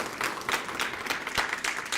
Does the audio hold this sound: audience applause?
yes